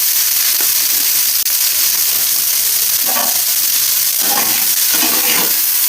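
Potatoes and neem leaves fry loudly in a pan with turmeric and salt, a steady close hiss broken by several scraping stirs toward the end.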